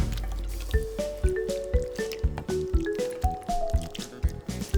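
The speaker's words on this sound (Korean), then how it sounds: "손질한 무에 부어줍니다." Salted brine poured over prepared radish for pickling, a series of close wet drips, squelches and gurgling splashes repeating irregularly as the liquid fills the container, with no talking.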